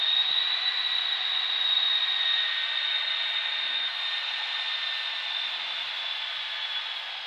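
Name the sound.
L-39 Albatros jet taxiing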